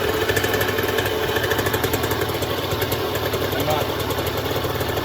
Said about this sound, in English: We'll fire it up now. So should fire up with. Fire up nicely.